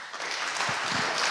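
Crowd applause at a lightning-talk session of a hacker event, a short burst of continuous clapping that fills the room evenly.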